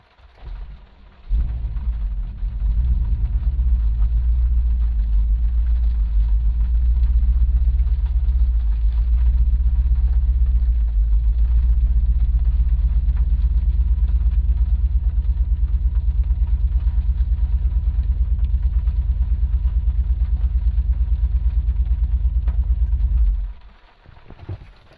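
A BMW F10 M5 engine runs unevenly after a DME software flash, a loud, deep rumble that starts abruptly, holds steady for about twenty seconds, then cuts off.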